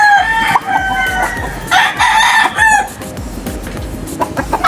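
A young rooster, a stag, on a farm in Payatas, Quezon City, gives a loud nearby crow in several drawn-out bursts with clucking between them. Hens and other birds call in the background, and no one speaks over it.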